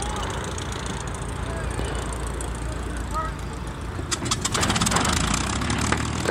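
A P-51 Mustang aircraft engine is primed and cranked on the starter, with a steady mechanical whir that breaks into loud, uneven popping and rumbling as the engine catches near the end, while a voice talks over it.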